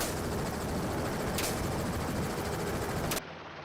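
Gunfire rains down from an aircraft above on fleeing wild boars, a few sharp bursts standing out over the loud, continuous rotor and engine roar before the noise cuts abruptly.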